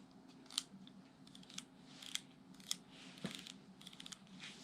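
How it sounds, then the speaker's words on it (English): Scissors trim away excess material during a fix to an M42 lens for a 35mm film camera, making a series of short, crisp snips close by and fairly quiet, spaced irregularly. "Now let's trim this excess away."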